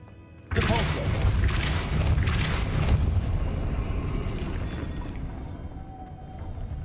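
The Depulso spell cast in Hogwarts Legacy, a sudden loud whooshing blast that swells into a rumbling, roaring burst, then slowly fades over several seconds.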